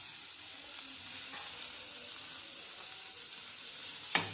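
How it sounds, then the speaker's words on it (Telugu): Onions frying in a little oil, a steady soft sizzle throughout with faint stirring and one sharp utensil tap near the end, close by and quiet, no talking. "మనం బ్రౌన్ కలర్లో వేయించుకోవాలి దీన్ని ఆయిల్ వేసి"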